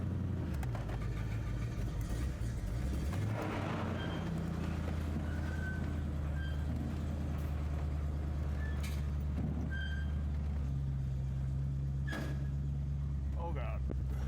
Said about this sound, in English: Power steering start making noise.